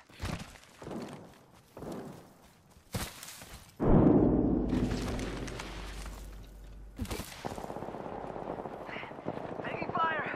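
Gunfire in the video game Apex Legends: scattered shots and impacts, then a sustained loud burst with rumble and debris, followed by more shots and in-game voice callouts.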